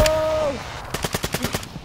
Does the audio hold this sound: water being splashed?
no